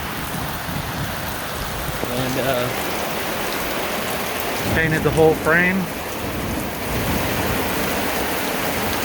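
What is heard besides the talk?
rain falling outside a garage during a truck rebuild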